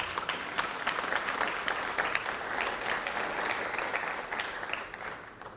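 Steady audience applause at a talk on health effects of electromagnetic fields, many hands clapping densely and evenly at moderate loudness, no voices over it.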